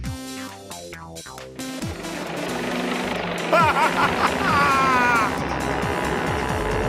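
A steady helicopter rotor drone builds and fills the scene after a burst of cartoonish tones, with brief squeaky, meow-like wails rising over it midway.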